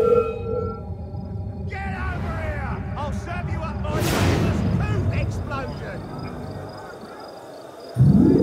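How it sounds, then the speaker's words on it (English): A loud explosion in the video game Assassin's Creed Unity, a broad roaring burst that rises midway and lingers amid game sounds and a voice. "Explosion!"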